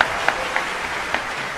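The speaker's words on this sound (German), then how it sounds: "Ein Applaus!" Light, thin applause from a small group, with a few sharper individual claps standing out over a soft, steady patter at moderate distance.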